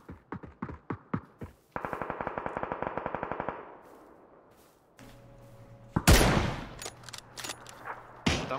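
Gunfire in the battle-royale game PUBG, played on PC: sharp separate shots first, then a fast automatic burst of steady rounds. After that come louder scattered blasts and thuds, close and loud, with no talking.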